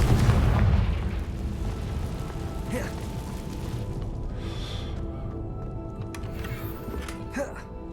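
Confringo fire spell explosion in the Hogwarts Legacy video game, a heavy near boom at the start that fades into a rumbling tail, with game sounds and a voice talking afterward.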